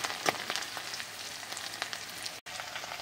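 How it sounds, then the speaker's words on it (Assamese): Onion, green chili and garlic frying together in hot mustard oil in a home kitchen pan, a soft continuous sizzle with light crackles, close and fairly quiet, no voices. "একেলগে ভাজি লওঁ"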